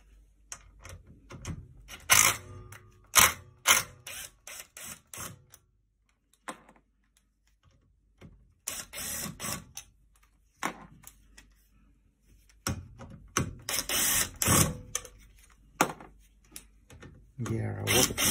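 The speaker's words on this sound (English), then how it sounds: "Then we will need to unscrew these screws here." Sharp, irregular ticks and clicks from a tool unscrewing the screws on a Volkswagen e-up high-voltage distribution box, coming in short bursts separated by quiet gaps, close by, with some speech between them.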